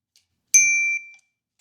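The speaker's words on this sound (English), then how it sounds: "I like this bell button." A chill little bicycle bell button on a State 4130 single-speed bike gives one clear, bright ding that rings briefly and fades, close and alone in a quiet room.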